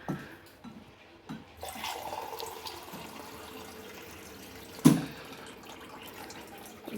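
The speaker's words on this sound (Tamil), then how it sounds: "இப்போ வந்து நமக்கு போய் தண்ணி கொஞ்சம் ஊற்றிக்கலாம்" Water pours steadily into a glass from a tap or container at home, a continuous close trickling splash with a brief louder knock midway.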